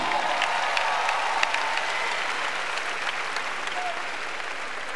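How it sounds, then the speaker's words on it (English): An audience at a live-streamed event applauds with dense, steady clapping that fades slightly toward the end, heard at a moderate distance in a large room. "Give yourselves a round of applause."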